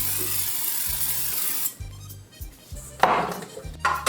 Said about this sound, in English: you're gonna get a large bowl and oil it down